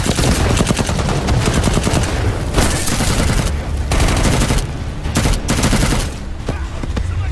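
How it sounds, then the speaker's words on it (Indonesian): Dense gunfire from a war film battle between Russian and Ukrainian soldiers, sustained loud machine-gun bursts and volleys packed together, dropping briefly near the end before resuming. "Mike dan Danny terlibat baku tembak."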